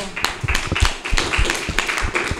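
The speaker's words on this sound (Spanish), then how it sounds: "Muy bien, un aplauso." Children clapping in a school library, a short burst of uneven, fairly loud claps with scattered taps, close by and with no one speaking over it.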